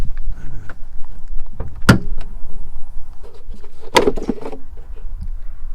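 The hood of a 2013 Chevrolet Malibu pops open with two sharp metallic clunks, close and loud, the first a latch release and the second the hood lifting, over faint background rustle.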